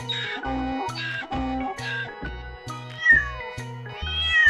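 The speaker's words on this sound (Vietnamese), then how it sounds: "Con mèo." A domestic cat meows several times in a row, clear and close, over a steady rhythmic music backing.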